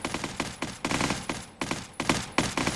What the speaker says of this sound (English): as you can see, the turrets have kicked off